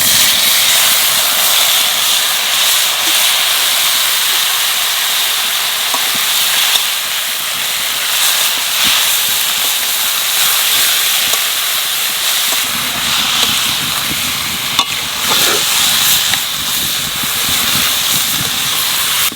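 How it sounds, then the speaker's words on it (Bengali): Steady, loud sizzling hiss of banana stem frying with potatoes and spices in a pan, a constant bright crackle with a slight shift partway through and no talking. "এইবার থোড় দিয়ে দেবো।"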